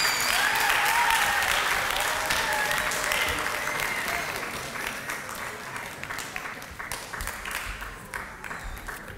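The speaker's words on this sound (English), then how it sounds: "Please, again, just a round of applause again." Audience at a World Refugee Day celebration and graduation breaking into sustained applause, loud at first and gradually thinning out toward the end.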